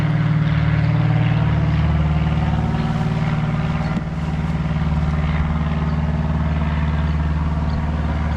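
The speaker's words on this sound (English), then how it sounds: "Lots of personal planes." Small personal propeller planes drone steadily overhead in remote Alaska, a loud, continuous engine hum with a brief dip midway, no voices.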